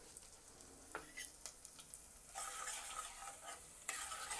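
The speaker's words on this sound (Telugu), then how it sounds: "మెంతులు వేగాయి, ఆవాలు కూడా చిట్టపట్లాడుతున్నాయి" Mustard and fenugreek seeds crackle and splutter in hot oil, with dried red chillies and asafoetida in the pan, a steady faint sizzle broken by small pops and a louder stretch of spitting.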